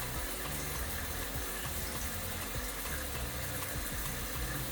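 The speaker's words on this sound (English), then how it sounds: "And I rinse it off with cold water." Cold water pours steadily from a tap to rinse a person's hair during a home loc-care routine, a continuous close-up rushing and splashing with no talk.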